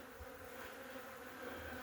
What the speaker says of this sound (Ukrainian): п'ють бджоли воду